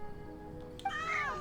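A cat in Genshin Impact meows once, a clear rising-and-falling cry up close over a quiet, steady game background hum.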